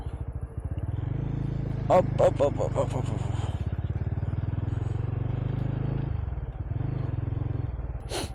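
Motorcycle ride near the sea on a trip through southern Vietnam, with a close, steady low engine throb throughout while someone speaks and makes rhythmic vocal calls over it.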